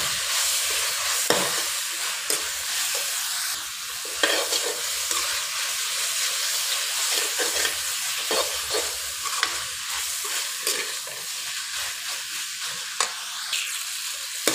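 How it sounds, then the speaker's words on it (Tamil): Centella asiatica greens sauté in a pan with a steady close sizzle and hiss, broken by scraping stirring strokes and small clatters at irregular intervals. "கீரை வந்து நல்லா வதங்கிடுச்சு"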